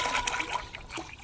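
Water splashes and trickles into a 20-litre bucket for mixing a liquid plant feed, a close, uneven pouring with small spatters rising and falling over a brief moment.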